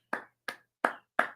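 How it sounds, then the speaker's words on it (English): Four crisp, evenly spaced hand claps as an applause sound effect, each a sharp close snap with short decay and clean silence between them. "Another round of applause"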